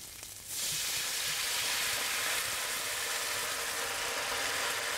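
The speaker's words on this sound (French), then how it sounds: "on va en profiter pour faire suer les légumes qu'on a préparés" Vegetables sweat in a hot pan after a little water is added, a sudden loud hiss and sizzle that bursts in after a quiet start and holds steady and close.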